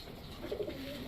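A bindu-eyed (bindumoni) male pigeon, a flying breed, gives soft low cooing in a short burst, faint and close amid a quiet background.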